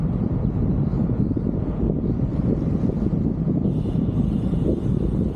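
Strong wind rumbles against the microphone in a continuous low roar, steady throughout with no voices.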